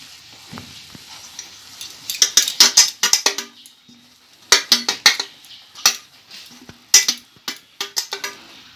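A metal plate is greased with oil for a raw mango bar, producing bursts of sharp metallic clinks, scrapes and rattles in uneven clusters, with short quiet gaps between them.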